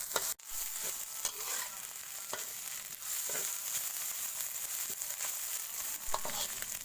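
Fish with green peppercorns and curry paste stir-fried in a pan over low heat gives a steady sizzle broken by repeated scrapes and taps of a stirring utensil.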